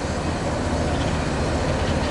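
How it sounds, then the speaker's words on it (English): Train rolling along the Pittsburgh main line near Tyrone, Pennsylvania, a loud continuous rumble of wheels and cars passing close by, steady for the whole short stretch. "The main line, Pittsburgh line, is what the train is on right now."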